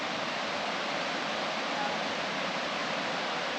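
Cedar Falls, the tallest free-falling waterfall in southern Illinois, pours as a steady, dense broadband roar that fills the whole stretch without pause.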